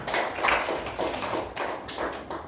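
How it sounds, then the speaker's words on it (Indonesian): A class of children clapping for a classmate, a dense burst of quick, uneven hand claps that swells and dips in several waves, fairly close and continuous. "Tepuk tangan buat Sahayunya."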